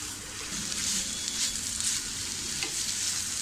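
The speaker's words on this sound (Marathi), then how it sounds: "अशीच आपल्याला सतत ढवळत राहून तिला व्यवस्थितपणे अशी सुटसुटीत करून घ्यायची आहे." Egg bhurji sizzling and frying in a pan while being stirred continuously, a steady close crackle with faint scraping throughout.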